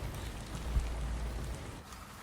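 Steady rain falls in a primeval forest among fallen logs and leaves, a soft, faint, continuous patter with a low rumble underneath and no voices.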